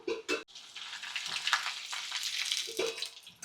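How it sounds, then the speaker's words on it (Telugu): Soya chunks fry in hot oil until crispy for a soya manchurian, giving a steady close crackling sizzle that starts with a couple of short bursts and stays fairly even throughout. "మిల్ మేకర్ క్రిస్పీగా అయ్యేంత వరకు వేయించుకోవాలి"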